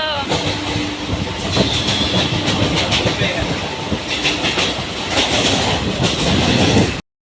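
Loud train noise with clattering wheels and rumble, broken by sharp metallic clanks, with voices faintly heard in the mix.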